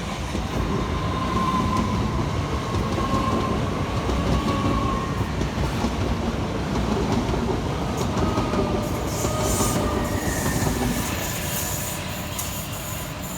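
Two coupled Southern Class 377 electric units roll slowly through Purley station in South London, a steady loud rumble of wheels and traction noise that runs throughout, with higher squealing tones creeping in near the end.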